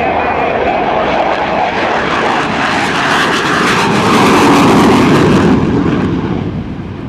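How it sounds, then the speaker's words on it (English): An F/A-18C Hornet jet rolls and lifts off at a Naval Air Station Oceana airshow, a loud continuous roar that swells to a peak and then starts to fade as it passes. "F-A-18 Hornet. On the roll, ladies and gentlemen, and airborne."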